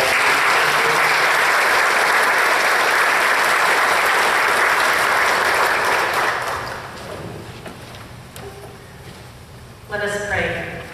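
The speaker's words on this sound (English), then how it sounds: "So let's give them a round of applause." A church congregation applauds at a pastor's farewell service, full and loud for several seconds before thinning out, followed by a brief quiet stretch and then a short burst of sound near the end.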